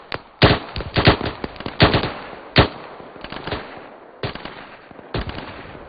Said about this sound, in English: Shots by the firehouse.